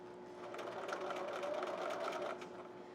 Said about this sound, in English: I'm stitching and I'm going to back stitch.